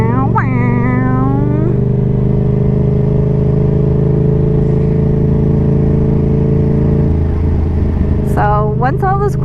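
Yamaha XSR700 motorcycle exhaust rumbling steadily up close, with a rising rev sweep near the start and another burst with popping near the end.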